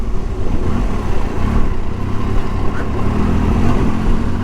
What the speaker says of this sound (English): Motorcycle is handling beautifully well though